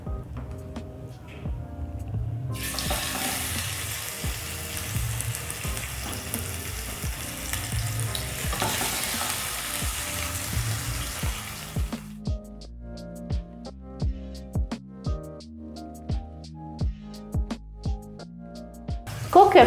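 Tilapia fish fillet dropped into hot oil, setting off a loud sustained sizzle that runs for several seconds and then cuts off, followed by a series of rhythmic taps and clicks.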